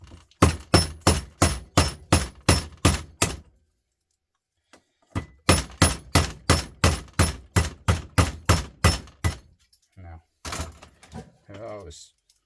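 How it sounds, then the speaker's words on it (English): Rapid, evenly spaced hammer blows smash an old CRT circuit board in two long bursts separated by a pause, followed by scattered rattling and clatter. "Let's see, can I get it with a hammer without hitting my hand?"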